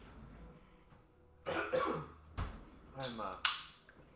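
A few harsh coughs come in bursts, close and fairly loud, with quiet pauses between them.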